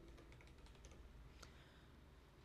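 Rapid, light keystrokes on a computer keyboard patter quietly through the first half, then thin out and fade into near silence.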